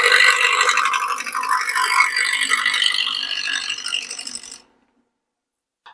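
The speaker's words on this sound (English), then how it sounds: "I went ahead and turned up the speed on the lathe to about 1500 RPMs" A wood lathe spins at about 1500 RPM, making a close, steady whirring rattle for several seconds before cutting off abruptly into silence.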